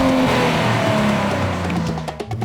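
A 2023 Nissan Z sports car engine revs hard and loud, holding a high, steady strain with tonal whines that shift in pitch as it pulls through the gears, then easing and breaking up near the end.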